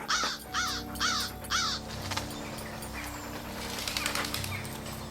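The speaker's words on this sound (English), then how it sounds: "What is that, a crow?" Crow in a radio drama giving four loud, harsh caws in quick succession, followed by fainter flapping and a low background hum.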